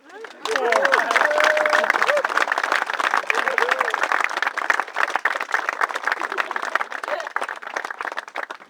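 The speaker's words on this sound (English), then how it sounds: "Do you think they deserve a round of applause?" Wedding guests break into a round of applause for the couple, dense clapping that starts abruptly and carries on steadily, with a voice and chatter audible over it early on.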